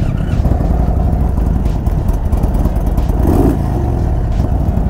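A Stage 2 Indian Chief Dark Horse motorcycle engine rumbles loudly and steadily nearby, with a low, throaty idle and a slight rise in revs partway through.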